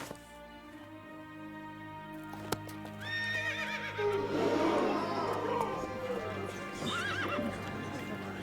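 A horse in a Christmas movie whinnies and neighs over soft clip-clopping hooves, with a sharp knock early on and a second whinny near the end, set against quiet background music.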